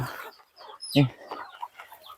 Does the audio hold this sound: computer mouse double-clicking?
no